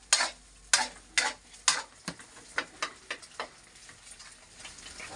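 Boneless chicken sautés in hot oil, sharp sizzling bursts and scraping stirs coming in a fairly regular rhythm, loud at first then softening into a steady crackle, with no talking.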